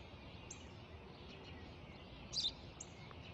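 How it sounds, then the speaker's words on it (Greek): A sparrow chirps outdoors, giving a few short, faint calls spread over a quiet background, with one slightly louder burst near the middle. "Ένα σπουργίτη είναι, πατέρα."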